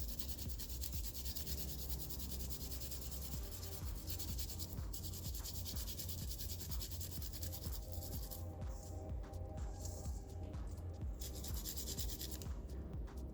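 Garlic being rubbed over a sharp kitchen grater, a continuous close rasping scrape with a faint steady hum underneath and a few lighter strokes toward the end.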